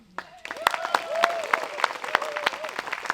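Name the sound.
audience applause after theatre performance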